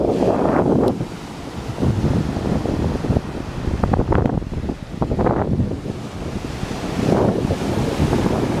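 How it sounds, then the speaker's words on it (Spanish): Sea waves break and wash repeatedly onto a Cancún beach, a loud steady surf with rhythmic swells and some wind rumble on the microphone, with no talking. "Miren el mar."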